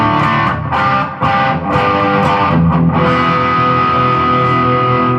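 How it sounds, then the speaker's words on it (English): Electric guitar chords through a treble booster with a bright, lightly distorted tone ring out loudly on a 1960s Gibson ES-335 or ES-345, strummed a few times and then left to sustain. "Add on the treble booster."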